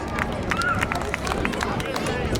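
An outdoor crowd at a speedway car-jumping stunt show claps and cheers briefly, with a steady patter of applause mixed with crowd noise and voices.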